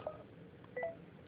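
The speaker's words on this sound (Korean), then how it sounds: "매수하고 알림의 소리가 거의 구분이 가지 않고 너무 소리가 작고 너무 빨리 지나간다" Default notification alert from the Binance trading app after a buy order, a quiet, very brief pair of tonal beeps that pass quickly and sit faint against a low background hum.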